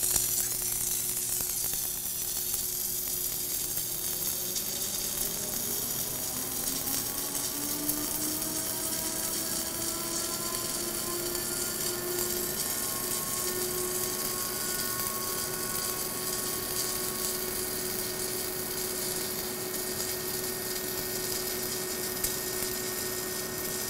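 A steady crackling sizzle of arc welding on a plate, from a Lincoln Power Wave AC/DC 1000 SD power source, runs continuously, accompanied by a constant machine hum with tones that rise and then hold steady.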